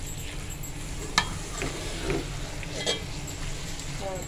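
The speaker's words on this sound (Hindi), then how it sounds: "अब हम इसको अच्छे से भून लेंगे, कीमे को आराम से अच्छे से भूनेंगे हम" Minced meat (keema) with chilies frying in a pan, a soft steady sizzle with a few light clinks and scrapes of stirring, quiet and close.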